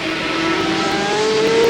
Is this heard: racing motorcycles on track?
yes